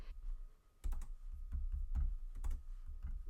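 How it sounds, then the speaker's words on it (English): Keys clack on a computer keyboard in a quiet room, a short burst of soft, uneven taps starting after a brief pause, close but faint. "Then I'll type in Sweet."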